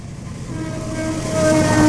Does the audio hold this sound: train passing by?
yes